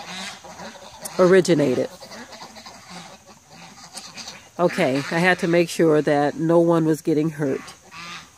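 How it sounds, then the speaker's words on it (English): Ducks honking while mating: loud, repeated nasal honks in two bursts, the second longer and busier, heard close by while a person talks over them. "Two of the ducks were mating."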